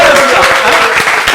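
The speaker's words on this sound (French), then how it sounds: "on peut applaudir pour elle" An audience applauds a singer who is a guest on a stage show, a steady clatter of clapping that runs through the moment with a faint voice or tone sounding beneath it.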